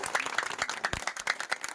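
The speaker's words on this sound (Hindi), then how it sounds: "मैं चाहूंगा जोरदार ताली बजा करके स्वागत करने का काम करें" A small outdoor crowd at a street-corner political rally claps to welcome a guest, a short burst of scattered individual claps that sounds moderately close and somewhat thin.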